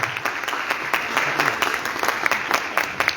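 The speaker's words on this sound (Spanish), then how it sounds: "Brindamos por favor un caluroso y fuerte aplauso" Warm applause from an audience at a book presentation in Arequipa, loud sustained clapping with distinct individual claps standing out in a quick uneven rhythm.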